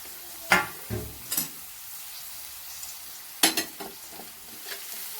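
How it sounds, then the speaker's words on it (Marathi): Grated carrot sizzles softly in ghee in a wok for carrot halwa, broken by a handful of scraping stirs with a spatula. Quiet gaps fall between the strokes, with no voices. "छान असा परतून घ्यायचा आहे केस आपल्याला अशा पद्धतीने."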